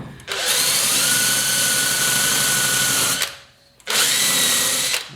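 A wire wheel on a power tool scrubs rust off the spokes of a 1974 Yamaha RS100 motorcycle wheel, a loud, close, high whirring grind in two bursts with a short pause between them.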